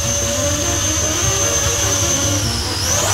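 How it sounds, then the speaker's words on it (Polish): A drone takes off indoors at a closed swimming pool at night, its rotors producing a loud, steady high-pitched whine that holds close and continuous throughout. "startuję dronem"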